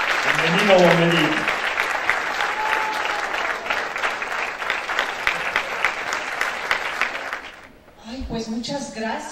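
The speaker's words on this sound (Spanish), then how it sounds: "Un fuerte aplauso para él" A studio audience on a television show applauds actor Eric del Castillo, heavy clapping holding strong for about seven seconds before cutting off, followed by someone speaking.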